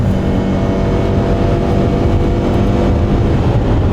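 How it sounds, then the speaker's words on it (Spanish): A Subaru Forester Hybrid SUV engine drones loudly and steadily at full-throttle acceleration, a constant throaty roar with road noise, no voices. "Esto es el máximo de ruido que vas a oír en este coche"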